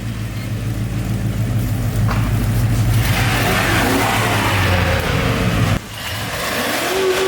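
A truck with a cammed 6-liter engine, headers, full exhaust, Trailblazer SS intake and tune tows another truck, its loud engine revving and pulling hard. The throttle drops off briefly near the end, then the rumble picks up again.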